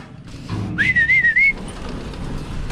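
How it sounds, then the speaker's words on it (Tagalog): A single short, clear human whistle to call birds at feeding time rises then wavers for under a second, sounding close against a quiet background. "isang sipol lang nagkakagulo na sila"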